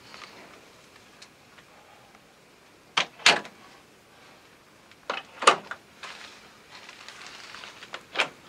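Pleated closet doors inside a 2014 Heartland Cyclone 3800 RV fold open in a few short clattering bursts, with faint ticks and rustles between them, fairly close and without talk.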